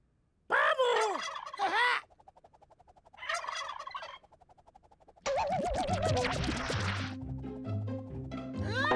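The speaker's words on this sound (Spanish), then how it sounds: "¡Pavo!" Turkey gobbling in bursts of loud, warbling calls with rapid rattling trills, separated by short quiet gaps, then a longer gobble over a melodic background tune.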